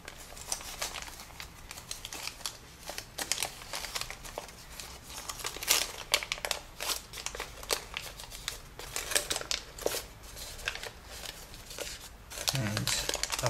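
Paper crinkles and rustles as flaps are mountain-folded for an origami scorpion, with repeated crisp crackles and soft scraping of creases under a person talking throughout.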